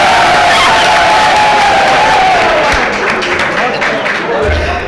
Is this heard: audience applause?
yes